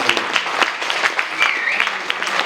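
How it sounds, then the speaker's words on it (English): An audience claps warmly after a speech at a migration Q&A event, a dense, steady wash of applause from many hands with no voices over it. "a warm applause for the last speech"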